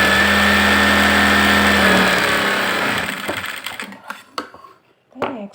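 Sewing machine stitching a blouse, a loud steady motor whir with rapid needle clatter for about three seconds that then stops, followed by scattered clicks and handling knocks of fabric, close by.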